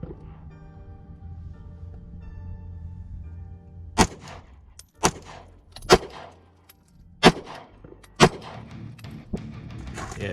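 Handgun shots at an outdoor shooting range, six sharp loud cracks spaced about a second apart, close by after a low humming background.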